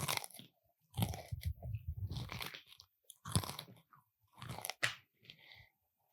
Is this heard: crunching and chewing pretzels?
yes